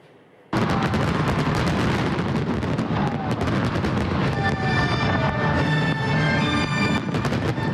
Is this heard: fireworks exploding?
yes